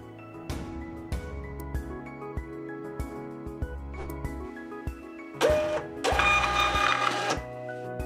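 A label printer prints a 4x6 inch shipping label after a wireless print command, starting with a run of rhythmic mechanical clicks and thumps, then a louder buzzing feed as the label rolls out, close and clear.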